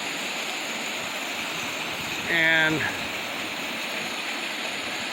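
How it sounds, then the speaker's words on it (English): A 30-foot waterfall pours over and through rocks into a river, a steady broad rushing wash close by, with a voice briefly heard over it. "It's probably a 30-foot waterfall, that section, but then it goes through these rocks"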